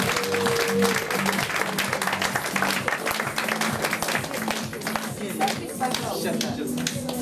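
Audience applause at an Agel product event in Moscow, steady dense clapping throughout with a low hum and faint voices underneath.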